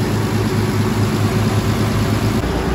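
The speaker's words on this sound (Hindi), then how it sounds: "ये देखिए गाइस बोट का इंजन में पहली बार" A ferry boat's engine runs steadily, a loud continuous low rumble and throb filling the whole stretch with no break or talking.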